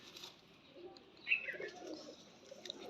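Pigeons coo softly in a low, rounded murmur, with a louder warble rising briefly midway through a short, quiet stretch alongside a man showing off a breeding pair.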